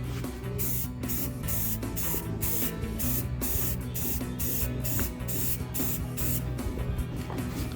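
Close, continuous hiss of spray paint being applied to a rusty boat bracket, steady and loud through the whole stretch with slight pulsing between passes.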